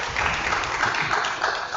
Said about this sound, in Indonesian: mari kita beri tepuk tangan untuk kelompok 1 ya